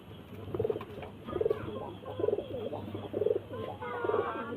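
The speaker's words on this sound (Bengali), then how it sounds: "পায়রাগুলো দেখবেন সব অন্ধরা পায়রা আছে কিছু আরও নতুন নতুন ম্যাট্রাসি পায়রা আছে" Pigeons of the Madrasi and Andhra breeds coo in a loft at night, with five rhythmic bursts of cooing repeating about a second apart over a steady low background hum.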